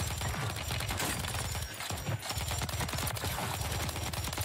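Gunfire from the video game Warzone 3 comes in rapid, dense automatic bursts that stay loud throughout the clip.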